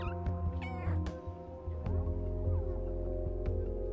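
Cat meows from the video game Stray, several short meows over a steady game soundtrack and ambient hum, fairly loud and close.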